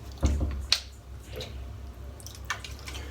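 Fair's Lemon Witch Hazel splashed onto freshly shaved skin, heard as a few soft wet pats and drips, close by and fairly quiet, with no talking.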